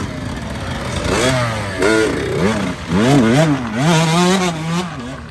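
A racing dirt bike on a cross-country trail at Deer Ridge revs hard in repeated surges, the engine pitch climbing and dropping as it passes close by.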